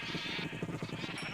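Sheep in the Minecraft game bleat in a quick repeated run, several overlapping calls forming a busy, pulsing flock sound at steady moderate loudness.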